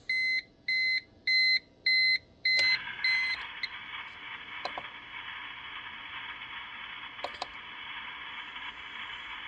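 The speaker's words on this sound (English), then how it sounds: "it's going to beep at me" A UPS battery backup with a weak battery at a ham radio station gives five evenly spaced electronic beeps, then a continuous high-pitched tone that holds steady, with a few faint clicks and a low hum beneath.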